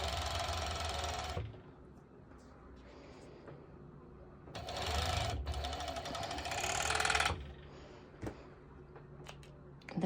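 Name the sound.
serger sewing activewear shorts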